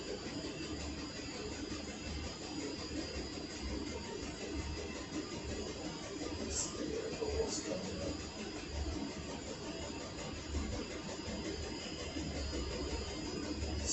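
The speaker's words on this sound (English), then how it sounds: "That's that diesel heater experiment going in the background, working perfectly." A diesel heater runs steadily in a garage, a continuous low rumble and hiss that stays even throughout, with no talking over it.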